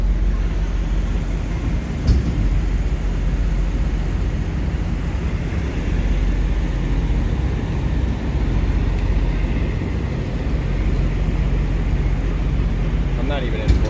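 Truck hauling a 30,000-pound load in two-wheel drive with a tow chain under strain, a loud continuous low engine drone and rumble with a sharp clank early on, and voices talking over it.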